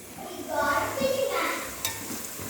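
Onions frying and being stirred in a pan for a home-cooked feast in Andhra Pradesh, a steady close sizzle with scraping stir strokes that run throughout, joined by a brief clatter near the end.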